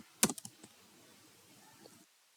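A short flurry of computer keyboard keystrokes while an Excel formula is entered, several sharp clicks close together at first, then quiet room tone.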